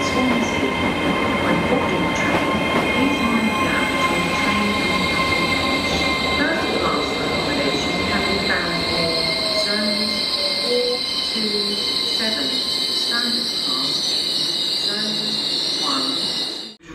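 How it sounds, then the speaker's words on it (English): Rumbling Great Western Railway train on rails with squealing wheels and steady mechanical hum, loud and continuous as it draws into platform 3 at Cardiff Central station, ending abruptly. "The next train to arrive at platform 3 will be the 1440 Great Western Railway service to Swansea"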